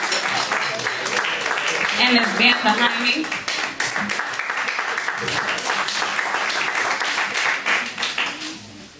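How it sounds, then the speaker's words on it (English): An audience at an MLK event breaks into loud, sustained applause with dense clapping while someone speaks over it. "Give him another round of applause."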